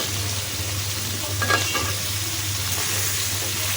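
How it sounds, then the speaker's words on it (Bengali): Potatoes fry lightly with onion in a pan, giving a dense, loud, constant sizzle with a low hum underneath and a brief burst of stirring scrapes partway through. "পেঁয়াজের সাথে একটু হালকা ভেজে নিব"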